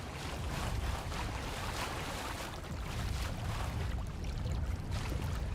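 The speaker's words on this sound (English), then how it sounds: "There's a weird water sound source that's like, it's tripping me up." Water sounds in Mass Effect 1: a constant faint wash of rushing, surf-like water noise with no talking.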